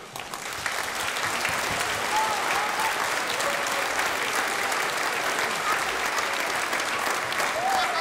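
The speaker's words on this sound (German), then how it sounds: "mit Ihrem Applaus zu bedanken." Audience at a school's fiftieth anniversary celebration applauding steadily, a dense, even wash of clapping that builds quickly in the first second and then holds loud throughout.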